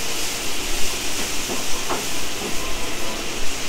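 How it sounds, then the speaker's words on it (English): Pork chops cook over high heat in a hot pan as their liquid boils off, giving a constant loud hiss and sizzle with a few faint pops and clinks. "the liquid from the cooking, from the boiling, is still evaporating off"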